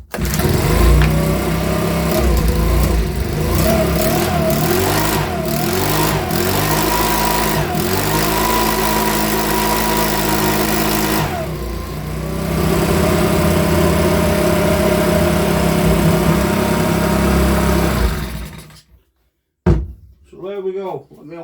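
A Makita BHX2500 four-stroke leaf blower engine runs steadily and loud for about eighteen seconds, its pitch shifting slightly as it revs, before cutting out abruptly; brief knocks and handling noises follow the shutdown.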